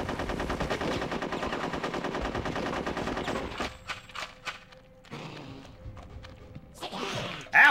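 Rapid gunfire in the video game Conker's Bad Fur Day, a dense burst of automatic shots for several seconds followed by scattered single shots and clanks with quieter gaps between them.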